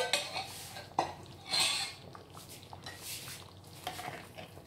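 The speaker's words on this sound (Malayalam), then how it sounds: "നന്നായിട്ട് മിക്സ് ചെയ്യാം." Broken wheat payasam being stirred in a pot after coconut milk goes in, giving soft scraping and clinking of a spoon against the metal, with a few sharper knocks near the start and a brief swish midway.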